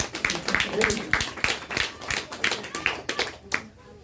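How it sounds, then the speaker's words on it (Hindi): An audience at a seminar claps in rhythmic, fairly close claps with a steady beat that stops abruptly near the end, with some voices underneath. "ओम प्रकाश सर के लिए जोरदार ताली चाहिए।"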